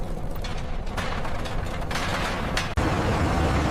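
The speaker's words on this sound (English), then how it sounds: "colossal horizontal ball mills continuously rotate to grind the raw materials. Steel balls tumble inside, pulverizing the materials into an incredibly fine powder." Colossal horizontal steel ball mills rotate continuously at a cement plant, steel balls tumbling inside to grind raw materials; a dense, loud, unbroken mechanical roar and rattle with one brief dropout.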